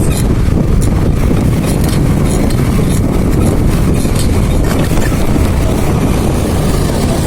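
A motorcycle engine roars loudly and steadily throughout during a wheelie stunt ride on an open road, with heavy wind buffeting mixed in and no talk over it.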